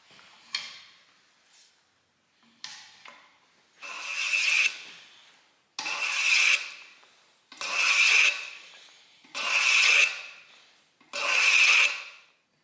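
A split-timber arrow dowel shaved along its last two sides with a hand tool, giving repeated rasping strokes, about six in steady rhythm, each a loud close scrape separated by short pauses, with no talk.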